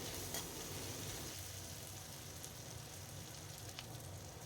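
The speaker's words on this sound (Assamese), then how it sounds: "এইখিনি অকণমান দেৰি মই এনেকৈ ভাজি থাকিম" Chopped onions fry in hot oil for a pumpkin leaf curry, a faint, steady sizzle with soft crackles and no voices.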